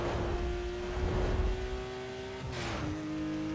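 A car drives in the racing game Need for Speed Most Wanted, a steady engine tone that holds and then shifts pitch near the end, with a brief whoosh, and no voices over it.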